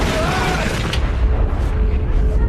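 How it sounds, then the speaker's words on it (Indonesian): A big gun fires and an explosion booms in a samurai film scene, a loud deep blast that rumbles on with crackling debris, heavy and close. "Seorang anak buah Enishi yang bernama Kujiranami melakukan sebuah tembakan dari senjata besar yang dipakainya."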